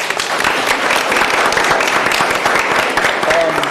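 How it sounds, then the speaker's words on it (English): A round of applause from the audience at a school board meeting honoring a student, dense and steady clapping from many hands throughout, with a brief voice rising near the end. "give her a round of applause"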